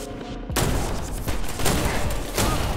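Shotgun blasts in the video game I Am Your Beast: a dense, loud burst of gunfire erupts after a brief quiet start and continues with overlapping booming shots and a second strong blast near the end.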